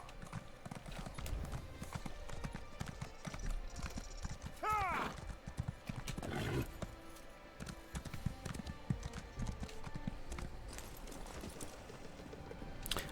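Horse hooves clip-clopping in a video game, a busy rhythmic tapping with a short neigh partway through, set among game sounds and a voice speaking.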